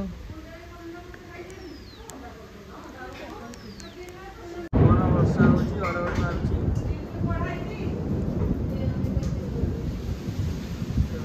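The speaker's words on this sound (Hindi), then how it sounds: "जोर वर्षा है वर्षा हो" Heavy rain pours down in a steady roar with thunder, birds chirping faintly before the downpour swells abruptly and stays loud and dense; someone talks over it.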